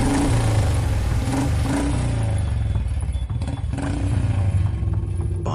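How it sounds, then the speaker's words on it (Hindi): A motorcycle rides along a village road on a rainy night, its engine a loud, rumbling, clattering drone that shifts pitch and eases as it slows, with scraping and rattling noises mixed in. "अजय ने अपनी बाइक गांव के आखिरी मोड़ पर रोक दी"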